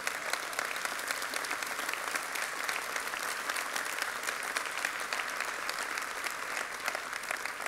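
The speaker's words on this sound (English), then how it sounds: "I'm redirecting the claps to her because those aren't for me." A conference audience claps for a keynote speaker, loud and sustained applause from a large crowd that holds steady from start to finish.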